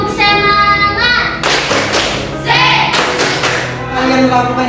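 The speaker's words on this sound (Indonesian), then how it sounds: "Tepuk semangat." A group performs a rhythmic spirit clap (tepuk semangat) in bursts of sharp, loud claps, mixed with voices chanting along.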